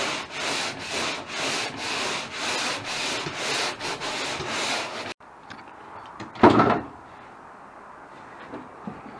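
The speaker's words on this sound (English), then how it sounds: "so now we're sanding this side" Abrasive sanding scrapes across the welded metal side of an enclosed cargo trailer in steady, rhythmic strokes for about five seconds, then the grinding stops, leaving quieter shop noise and one short, louder scraping burst.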